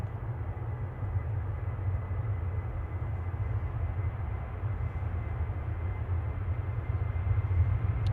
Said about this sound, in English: Jet 2 to Salzburg, just departing in the background,